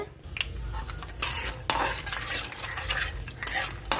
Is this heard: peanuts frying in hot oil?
yes